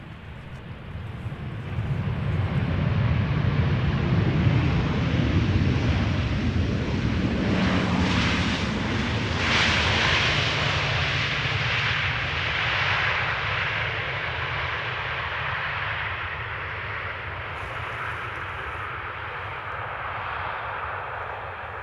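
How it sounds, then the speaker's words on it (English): A KLM Boeing 737-800 arriving at Amsterdam Schiphol from Oslo gives a broad, steady jet roar that swells early and then slowly fades, mixed with gusty wind buffeting the microphone, with no voices. "Next up is this KLM 737-800 arriving from Oslo,"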